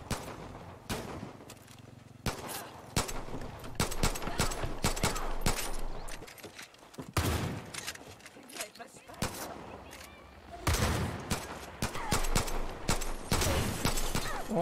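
Dense, continuous gunfire in the video game Far Cry New Dawn, rapid repeated shots and bursts throughout with brief lulls, loud and close, with occasional talk beneath.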